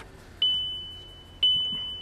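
Two separate high-pitched electronic warning beeps sound about a second apart inside a VW Golf MK5, each tone sustained and clear over faint cabin background noise.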